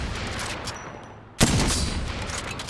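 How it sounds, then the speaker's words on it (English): A sniper rifle in Apex Legends is hip-fired with one sharp, loud report midway, followed by sustained noisy gunfire rumble and ringing echoes over a busy combat background. "Just by randomly shooting."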